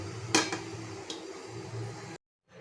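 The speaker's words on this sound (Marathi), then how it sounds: "आता त्याच्यावरती मी झाकण ठेवून पंधरा मिनटं शिजून घेणार आहे" A lid clanks onto a cooking pot holding turmeric-leaf panmode set to steam, one sharp metallic clink followed by a softer tap over a low background hum, then silence.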